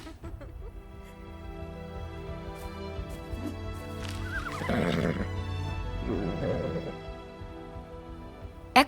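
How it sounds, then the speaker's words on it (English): An Equus horse in the game ARK neighs with a loud, quavering whinny in two bursts, accompanied by faint hoof clip-clops and a soft background drone. "Equus magnus appears to be an ancestor of the modern horse."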